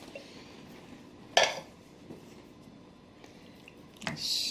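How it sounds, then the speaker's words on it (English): A spoon scrapes and knocks against a pot while chili ingredients with tomato sauce are stirred, giving a few sharp clinks and wet squelches over quiet background, with no speech. "Stir all this in."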